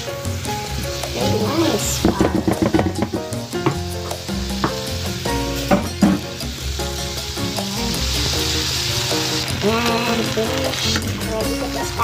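King prawns and asparagus stir-fried in garlic sauce give a loud, steady sizzle with clattering spatula strokes, while a voice briefly speaks over the pan and music plays underneath.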